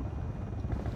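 A helicopter in Ghost Recon Wildlands, a low steady rotor drone with a soft rumble, held for a brief moment without talk.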